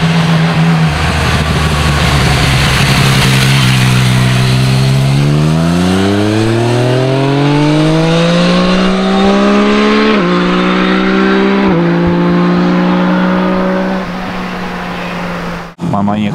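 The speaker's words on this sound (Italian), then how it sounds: "comunque sta moto è una roba impressionante" A loud Yamaha MT-09 sport motorcycle engine revs up steadily, its pitch climbing and holding high for a long stretch before cutting off abruptly near the end.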